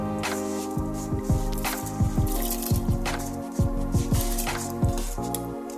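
Repeated soft wet plops and squishes of rice tipped into boiling water for beef biriyani sound over a steady tonal hum, with no voices.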